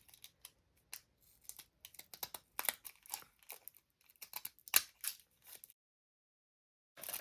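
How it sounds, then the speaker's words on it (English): Decorative edging scissors cut a paper envelope edge for a junk journal, giving a series of crisp, close snips and crinkles in irregular bursts with short pauses, then a quiet stretch before one last snip. "I used some of my fancy scissors, little edgers, and gave it, on this one I'll give it an edge."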